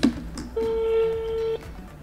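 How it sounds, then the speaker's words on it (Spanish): Modern telephone dialing tones: a short beep, then one steady electronic tone held for about a second, clear and close over faint background noise. "Así suenan los teléfonos ahora."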